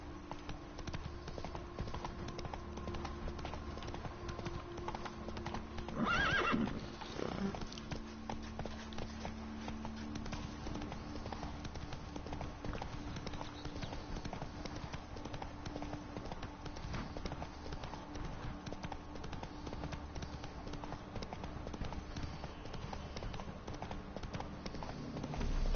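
Roach the horse's hooves clip-clop at a walking pace in The Witcher 3, a steady, moderately close patter over constant ambient game noise, with a brief louder burst of sound partway through.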